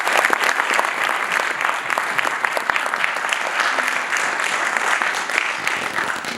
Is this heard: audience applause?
yes